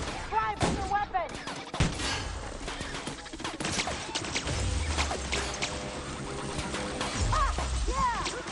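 Gunfire in a video game, loud bursts of shots and heavy impacts packed closely together over a busy mix of game effects, with a voice briefly calling out among them.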